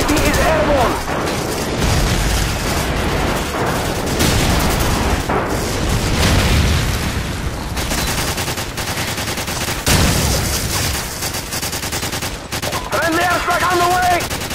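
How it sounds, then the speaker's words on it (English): Call of Duty 4: Modern Warfare online match with rapid bursts of automatic gunfire and heavy airstrike booms rolling through, a radio-style game voice calling out over the combat. "Friendly airstrike on the way!"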